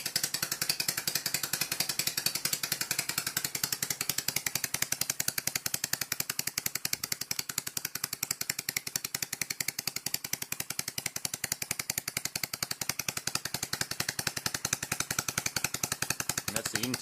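Dismantled open scroll compressor running at speed, a loud rapid mechanical knocking rattle with a fast, even pulse, close and continuous, with a voice talking faintly underneath.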